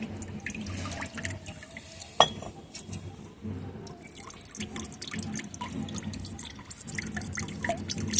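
Rice starch water poured through a kitchen strainer, with steady dripping and trickling, soft liquid splashes and an occasional clink of the strainer against a container, close and fairly quiet.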